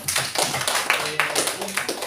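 Classroom applause for a team presentation, a burst of many hands clapping close by in a rapid, uneven patter, with voices talking over it.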